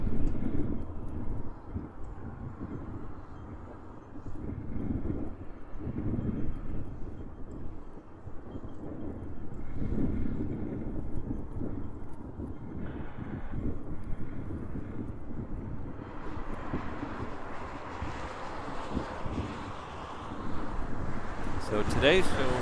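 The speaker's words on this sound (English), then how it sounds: "it's a little treat to see these planes up close" At Honolulu airport in high winds, airplanes pass close overhead with a steady, rumbling engine roar mixed with gusty microphone wind noise, swelling louder and brighter toward the end.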